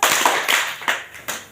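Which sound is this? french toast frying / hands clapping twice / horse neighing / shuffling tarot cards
hands clapping twice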